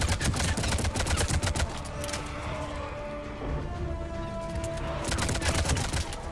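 Gunfire in the Mass Effect 3 video game during a fight against husks on a moon, rapid bursts of automatic shots with a quieter gap in the middle, heard over game background sounds.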